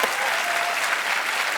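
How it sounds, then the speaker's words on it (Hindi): A studio audience applauds loudly, welcoming actress Sonakshi Sinha onto a comedy talk show set, a dense continuous wash of clapping with crowd noise throughout. "सोनाक्षी का जोरदार तालियों से स्वागत एक बार"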